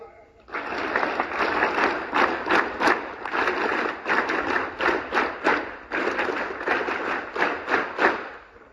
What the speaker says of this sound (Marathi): टाळी अशी वाजली पाहिजे की वाजवा